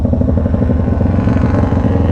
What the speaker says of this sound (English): engine braking, Aprilia engine braking